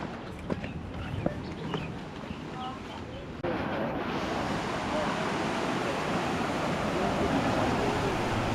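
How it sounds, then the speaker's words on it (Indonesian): Steady roar of high surf washing onto a shore below a cliff at Nusa Penida, continuous and fairly loud, with some faint clattering and voices in the first few seconds. "ombaknya cukup tinggi"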